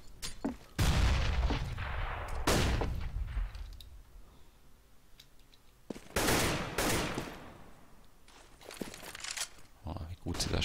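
Bursts of automatic rifle fire and single gunshots in Counter-Strike on de_mirage crack out in several sharp clusters, loud and close, with footsteps between bursts and a commentator talking over the action.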